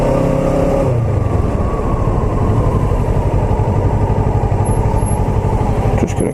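A Kawasaki ER6F / Ninja 650 parallel-twin motorcycle engine on a daily commute, a loud steady close-up drone that eases off early, then holds an even, pulsing idle-to-cruise hum throughout.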